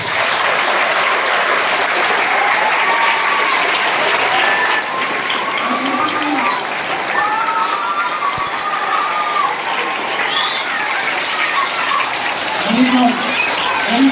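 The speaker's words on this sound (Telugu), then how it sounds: "claps for your teachers once" Students at a school investiture ceremony in Nellore applaud their teachers with a long, dense burst of clapping that fills the hall, while voices call out over it now and then.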